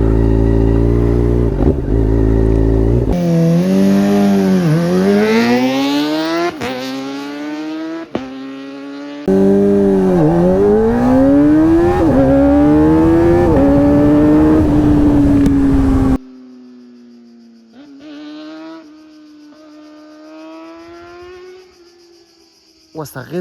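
A Kawasaki ZX-4R with full carbon parts idles and then revs hard several times, its engine sweeping up to a high scream and falling back between blips, loud and close, in a series of separate cut bursts.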